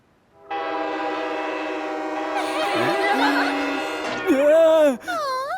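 A long, loud tonal horn blast from a large ship holds steady, then animated cartoon voices chime in imitating it with sliding whistle-like hoots before the clip ends.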